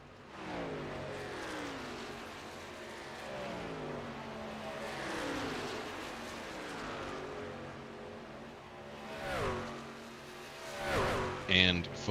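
Simulated race trucks at green flag racing pace around Michigan International Speedway, engines droning and sweeping in pitch as the pack laps, with louder passes near the end under steady commentary.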